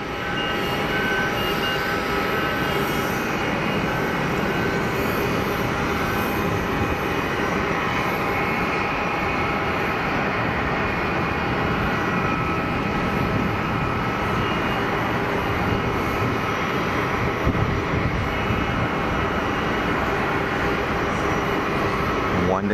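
Airbus A220 jet engines spool up on the runway at Geneva Airport, a loud continuous roar filling the whole stretch with steady broadband rumble and whine, heard from a moderate distance without pause.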